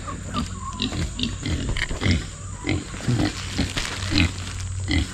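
Pigs in a freshly built homestead pen, their ground already torn up, grunt and snort in short, close bursts, several animals calling over a constant background hum.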